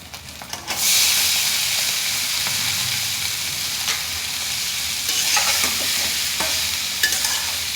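Noodles tossed into a pan with already-fried eggs sizzle loudly and steadily, with scraping stirs and spatula clinks breaking through the constant hiss, close and without talk.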